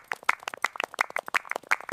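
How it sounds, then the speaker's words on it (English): Hands clapping on a farm, a quick run of sharp, close claps in an uneven rhythm, loud and dry, with a few brief tonal sounds mixed among them. "Clap, clap."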